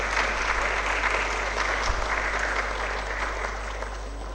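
An audience at a medical college orientation day in Kalaburagi applauds steadily throughout, a dense wash of clapping from a seated hall over a low electrical hum.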